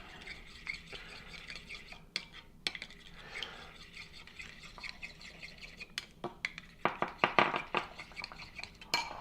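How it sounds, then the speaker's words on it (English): Salmon salad with chopped chives is mixed in a bowl, a utensil clinking and scraping against the dish in irregular taps that grow busier and louder toward the end. "And then we're going to mix it."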